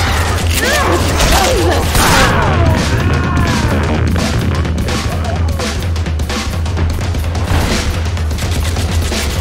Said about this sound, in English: I gotta take the grenade launcher.